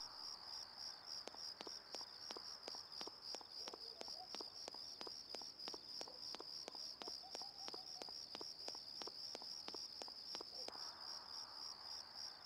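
Crickets chirp in a steady, rapid pulse inside the Persona 4 video game, a thin high trill repeating evenly throughout as a faint ambient backdrop.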